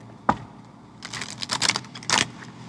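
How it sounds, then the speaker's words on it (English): A deck of cards is shuffled up close: a single snap, then quick fluttering riffles in two short bursts. "I'm gonna shuffle one more time and then take the card off the top"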